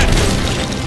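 A single deep boom from a Sea of Thieves ship cannon, close and loud, its low rumble filling the brief moment.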